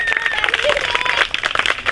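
Children at an NGO education-campaign prize ceremony clap and applaud in a steady, busy patter, with voices and chatter mixed in over the clapping.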